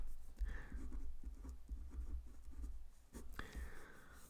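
A pen scratches faintly across paper as a math answer is written out by hand, in quiet, irregular strokes and taps with no voice present.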